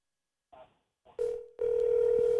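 A phone call goes out and the line starts ringing while waiting for pickup: a few brief clicks and tones, then a steady, fairly loud ring tone holding to the end.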